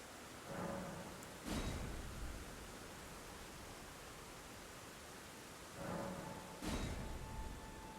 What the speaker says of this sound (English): It's downpouring like forever.